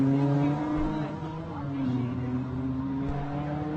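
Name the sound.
Can-Am off-road race vehicle at Baja 400 starting line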